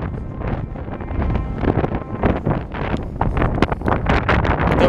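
Strong wind buffeting a microphone outdoors, a continuous loud rumbling roar with gusty surges throughout and no speech.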